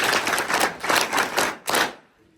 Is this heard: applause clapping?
yes